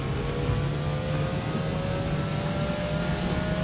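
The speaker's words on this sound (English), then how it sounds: "Oh snap, this thing actually is pretty quick. Okay, so that is the Porsche 911." A Porsche 911 supercar engine from a Minecraft supercar mod drones steadily and fairly loudly, a continuous smooth engine tone that holds throughout with no talking.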